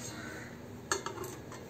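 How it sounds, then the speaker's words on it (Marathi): A spoon scrapes and clinks against a bowl while coconut filling is mixed with powdered sugar for karanji, a few soft metallic taps over quiet background hiss. "आणि हे छान आपल्याला मिक्स करून घ्यायचं आहे"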